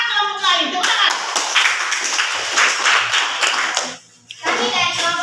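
Students in a classroom group activity clap together in brisk, lively applause, close and fairly loud, with children's voices heard at the start and again at the end.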